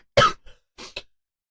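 A few sharp coughs from one person, close and fairly loud: a strong harsh burst, a faint follow-up, then two shorter coughs after a brief pause.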